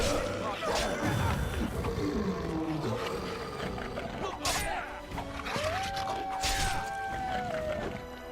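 A dog snarls, growls and dies in a fight in the video game Dragon Age: Origins, with loud roaring animal cries over clashing combat hits and a sustained musical tone, and a voice speaks throughout.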